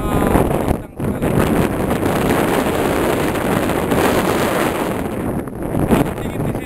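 Strong, cold wind roars steadily across a microphone near the summit crater of Mount Sorik Marapi, loud and continuous with brief lulls, while a hiker talks under the rushing gusts.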